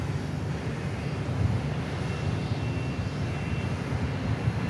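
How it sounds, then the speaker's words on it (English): Cessna Citation jet taking off at Dallas Love Field, a broad steady roar of jet engine noise heard from a distance, even in loudness throughout, with no voices. "Looks like a Cessna Citation taking off here."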